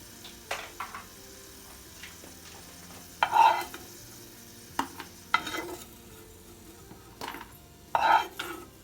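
Asafoetida being fried and stirred in a pan for home-style sambar, giving a few scattered scraping and clinking strokes of a utensil against the pan over a faint low sizzle, with quiet gaps between the moves.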